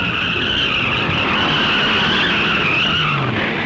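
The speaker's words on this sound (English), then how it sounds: "even under caution rules, these cars are traveling more than 100 miles an hour" 1964 stock cars at the Darlington Southern 500 roar at speed, bumpers hooked, a steady loud engine drone with tire noise and a faint rising pitch near the end, no voices.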